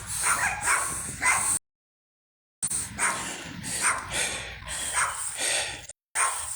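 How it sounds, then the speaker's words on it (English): Dog barking outdoors near a barn in rhythmic bursts of sharp barks and snorts, close and fairly loud, with two brief gaps of silence between the volleys. "Woof, woof, woof, woof."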